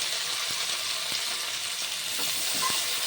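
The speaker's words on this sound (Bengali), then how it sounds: "আদা সব একসঙ্গে করে খুব ভালো করে ভেজে নেব" Chopped onion with garlic and ginger frying in a pan makes a continuous close sizzle, with a few sharp taps of a spoon against the pan and no voices.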